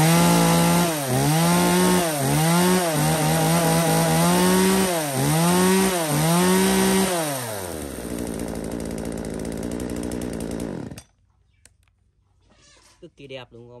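A used Japanese-market chainsaw, a Stihl, Echo, Makita or Hitachi, revs loudly in repeated rising and falling bursts, then settles to a rough idle before cutting off, leaving near-quiet with faint background sounds.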